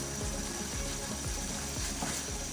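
Aloo keema, a dhaba-style minced meat and potato mixture, is stirred in a hot pan, giving a steady close sizzle with repeated scraping strokes and no voices.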